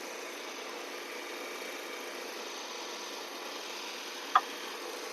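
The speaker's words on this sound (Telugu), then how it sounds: "ఇంజన్ చూడండి ఒక్కసారి. సింగిల్ స్టార్ట్లో సెల్ఫ్ అయింది. అది బెల్ట్ ఒకటి లూజ్ ఉండటం వల్ల సౌండ్ వస్తుంది." A 2011 Maruti Alto LXi idles with a faint, steady low hum, its loose belt adding a light even noise, plus one brief tick near the end.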